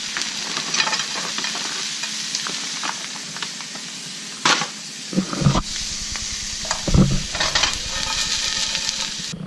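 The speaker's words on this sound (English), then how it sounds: "Now I'm going to put some chicken in this frying pan" Steady frying sizzle of chicken in a pan, with a few louder clatters and bumps of stirring or utensils partway through.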